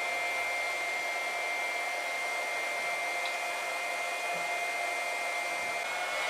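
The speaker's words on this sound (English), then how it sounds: "you can plug your pump back in, turn it back on, and proceed with filling" An electric pump fills a garden tractor tire with liquid ballast through a hose on the valve stem, giving a steady, even motor whine and hum that holds without a break from start to finish.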